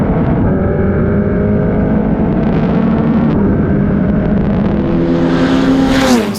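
Turbocharged FR Americas race car accelerating hard on throttle at NOLA, a loud continuous engine roar with rising pitch as revs climb, alone without voices.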